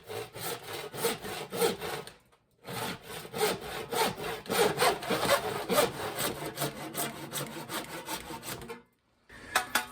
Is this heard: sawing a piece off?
yes